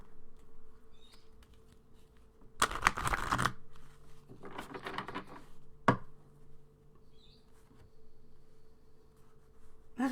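A card drawn from a deck, a short papery rustle and flick followed by a second softer shuffle and a brief tap, close and quiet in an otherwise still room.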